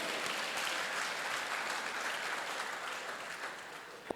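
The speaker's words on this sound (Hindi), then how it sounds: "एक बार फिर से जोरदार तालियां बेटियों के लिए।" Audience at a college campus event applauds the daughters, a dense, steady wash of clapping that holds loudly for the full few seconds before a sharp final clap.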